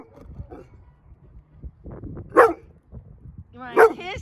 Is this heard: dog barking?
yes